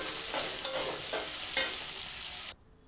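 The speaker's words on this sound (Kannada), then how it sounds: "ಚೆನ್ನಾಗಿ ಫ್ರೈ ಮಾಡ್ಕೊಳ್ಳಿ." A close, even sizzle of soya chunks frying in a pan, with occasional utensil taps, cuts off abruptly near the end into near silence.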